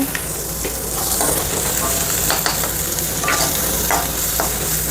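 Onions fry in hot ghee over a medium flame, a loud, continuous sizzle and crackle with occasional stirring scrapes, steady and close.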